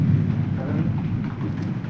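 Heavy rain pours steadily with a low thundery rumble running underneath, a continuous close wash of storm noise with no voices.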